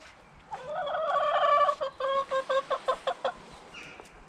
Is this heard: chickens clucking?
yes